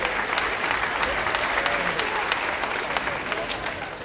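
An audience applauds at an elementary school band concert, a steady continuous patter of many hands, moderately loud and even from start to finish.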